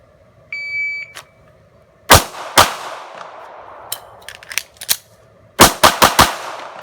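A Sig Sauer P365 compact pistol fires at 5 yards on a shooting range: loud, sharp gunshots come singly and then in a quick closing string, with a brief electronic beep early on.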